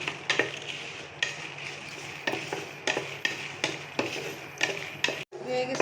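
Chillies frying in a pan with repeated stirring scrapes and clinks of a utensil against the pan in an uneven rhythm, close up over a soft sizzle.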